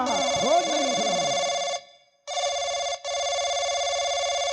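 An electronic phone ringtone trills in a long burst, pauses briefly, then rings again twice, steady and fairly loud with a chirpy warble at the start.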